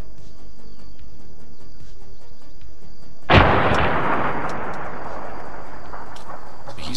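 Single AI artillery shot in a combat video game, one sudden loud boom that decays over several seconds into a rumbling tail after a quiet stretch of faint ambient chirping.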